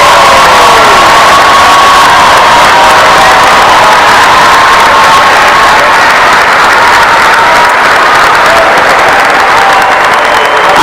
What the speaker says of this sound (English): Ladies and gentlemen, one more round of applause for the soon-to-be graduates of the class of